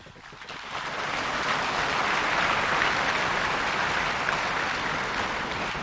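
An audience claps steadily, swelling quickly into sustained, dense applause that fills the room.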